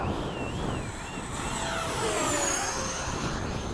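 A Freewing 80mm F-5 RC jet comes in to land at a flying field at sunset, its ducted-fan whine steady and fairly loud, with high tones sliding downward as it slows, and no voices.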